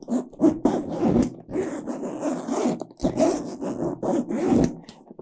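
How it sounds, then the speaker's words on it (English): Stiff zipper on a leather backpack dragged open in several rasping, uneven pulls with short pauses between them, close and fairly loud, no voices. "the zippers would need to kind of break in to become a little bit smoother in operation, but I don't know, you can kind of hear it."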